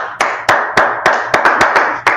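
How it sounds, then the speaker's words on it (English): A small class claps in a run of sharp, separate hand claps, about eight strikes in two seconds. The rhythm is uneven and each clap rings briefly and close before the next. "Let's clap it up."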